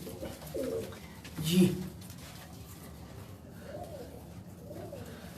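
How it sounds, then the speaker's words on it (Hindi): Pigeons on a rooftop loft give a couple of soft, low coos early on, with fainter cooing later, while someone speaks briefly nearby over quiet outdoor background noise. "ये शाह साहब कबूतर है, ये जो टाली वाला,"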